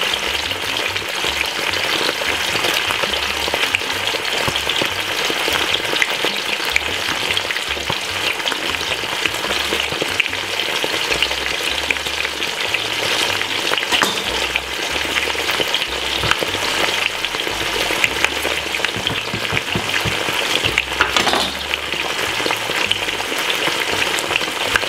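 Bacon frying on a stovetop pan gives a loud, continuous sizzle and spatter throughout, with scattered low clinks and knocks of a utensil, no voices.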